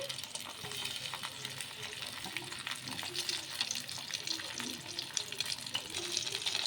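Tomato and wheat-flour fritters frying in oil in a pan, a soft continuous crackling sizzle with light clinks, fairly quiet and steady throughout.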